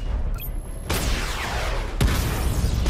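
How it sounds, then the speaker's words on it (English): In the video game Batman Arkham Knight, the Batmobile fires a missile barrage: a loud burst of launches at about one second, then a dense whoosh and a heavy boom at about two seconds, with no talking. "activate missile barrage"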